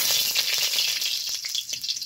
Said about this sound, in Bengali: আলুটা এই তেলে ভেজে নেব